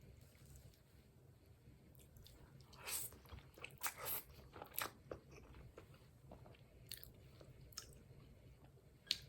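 Someone eats Buldak cream carbonara noodles with added hot sauce, giving soft close-up chewing with a few sharper slurps and bites spread over steady low background noise.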